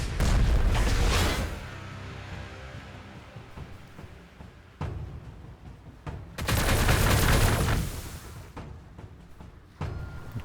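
Warhammer 40,000 Gladius: Relics of War battle gunfire comes in loud booming volleys, a heavy burst at the start, a single crack midway and a long roaring barrage later, then a last shot near the end.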